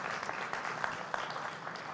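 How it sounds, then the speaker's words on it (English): A brief burst of audience applause for a speaker at an ocean forum, many hands clapping at moderate loudness for about two seconds, with no talk over it. "one round of applause for Sylvia Earle."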